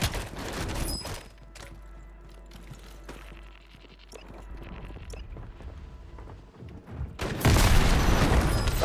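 Shotgun blasts in Call of Duty ring out in a rapid, uneven volley of sharp reports with mechanical clatter, ending in a loud, dense burst of fire.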